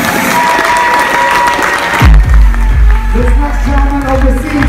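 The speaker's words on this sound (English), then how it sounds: "How about a big round of applause for Anders?" A cruise-ship audience aboard the Norwegian Breakaway claps and cheers loudly for about two seconds, then the applause drops away under a voice talking.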